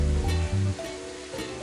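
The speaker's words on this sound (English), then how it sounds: "as I'm browning the meat, now I'm just trying to make sure you're really mixing the mushrooms and the onions there." Beef and pork mince browning in a pan with mushrooms and onions, a steady close sizzle and hiss with low rumbling stirring at the start, no talking.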